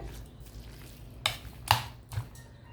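Chopped beef being mixed by hand with lemon juice, ginger and salt for a marinade, a few soft wet squishing and clicking sounds spaced over a quiet background.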